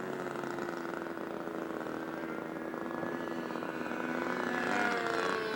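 Radio-controlled scale Seahawk seaplane, a shipboard observation aircraft type, powered by a Rossi 60 engine at a seaplane championship in Oregon; a steady buzzing engine drone runs throughout, rising slightly in pitch and loudness near the end.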